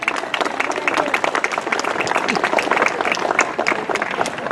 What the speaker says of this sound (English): please give yourselves a warm round of applause for everything that you did to make this happen